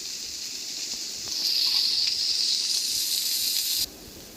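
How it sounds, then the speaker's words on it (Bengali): Vegetables sizzle and hiss steadily in a hot pan for vegetarian dalia khichuri, the frying growing louder midway and then dropping back, with no talking. "সবজিটাকে বেশ কিছুক্ষণ ধরে এবার ভাজতে হবে।"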